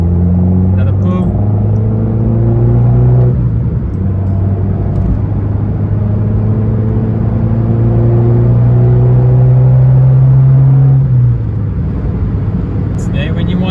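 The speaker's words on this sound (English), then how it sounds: "Catback exhaust, guys." An Abarth 595 with a catback exhaust drones in a long, steady pull, its engine note climbing gradually and then dropping off near the end, with a low rumble close by.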